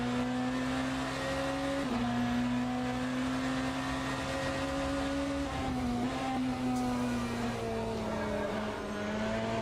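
A BMW hypercar races at Interlagos in the Le Mans Ultimate racing game, its engine droning at a steady high pitch with small dips and rises as it shifts and brakes, plus a faint tire hiss.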